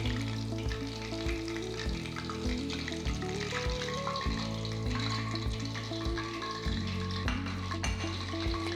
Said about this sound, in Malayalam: ബാക്കിയുള്ളത് നമുക്ക് ഇതുപോലെ ഫ്രൈ ചെയ്തെടുക്കാം.